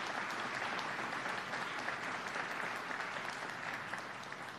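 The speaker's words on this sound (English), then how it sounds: "So let's have another round of applause for the governor." Sustained crowd applause at an outdoor highway groundbreaking ceremony, a dense, steady wash of many hands clapping at even loudness that tapers slightly toward the end, with no voices over it.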